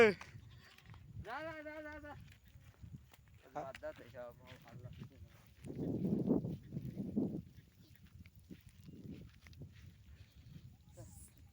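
Goats grazing on open pasture give a few wavering bleats, one after another, over low outdoor background noise and some faint talk.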